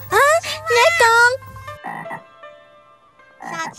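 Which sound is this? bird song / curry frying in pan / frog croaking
frog croaking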